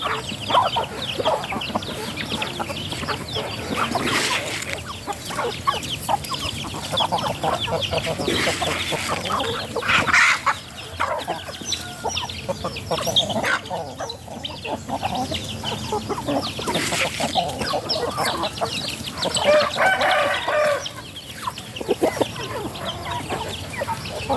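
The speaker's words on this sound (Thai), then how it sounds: "ลูกไก่" Chickens cheep and cluck continuously at close range, many small calls overlapping in a busy farmyard scene after a flood.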